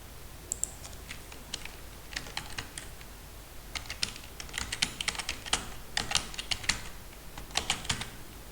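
Someone types a domain name on a computer keyboard, producing quiet, close key clicks in irregular bursts with short pauses between groups of keystrokes.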